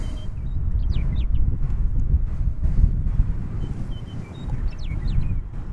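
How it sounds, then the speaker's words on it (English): Birds chirp and call in short bright bursts over strong wind rumble buffeting an outdoor microphone beside an airport runway, the calls fairly faint and intermittent against the steady low roar. "More bird action for you today."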